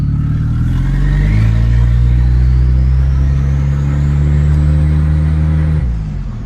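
An 1980s turbocharged car pulls away close by, the engine note rising steadily and droning loudly as it accelerates for several seconds, then easing off at the end. No one talks.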